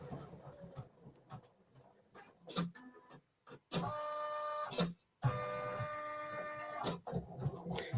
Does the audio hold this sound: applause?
no